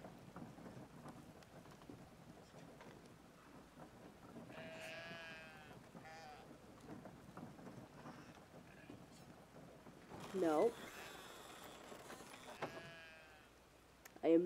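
Sheep bleating in the video game Brothers, a couple of wavering bleats rising over steady rain and rumbling thunder, with a player's voice talking faintly underneath.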